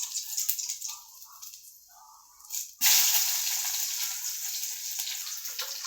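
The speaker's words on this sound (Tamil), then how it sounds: "போட்டு எல்லாத்தையும் வதக்கிடலாம்." Ingredients hit a hot pan and burst into a loud, sustained hiss of sautéing that runs to the end, after a few seconds of softer clatter and quieter sizzle.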